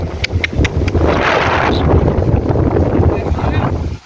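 Strong wind roars and buffets the microphone in a heavy, continuous rumble, with a few faint clicks near the start.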